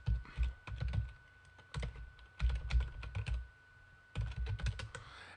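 Someone types an email address on a computer keyboard, giving bursts of quick, close key clicks split by short pauses.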